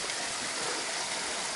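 The Cascata Grande waterfall at Rioscuro near Cineto Romano pours in a dense, loud, unbroken roar of falling water, heard close with no voices.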